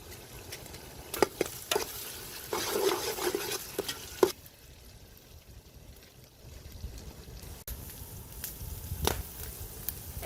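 Onions, green chillies and chilli powder fry for a Sri Lankan mutton kothu rotti while being stirred in the pan. Irregular scraping and stirring bursts ride over a steady sizzle, fading to a quieter fry midway before a few more stirs.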